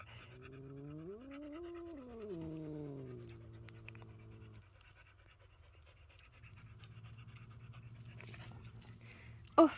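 A dog pants softly and steadily nearby under a faint, wavering background hum, ending with a brief sharp click.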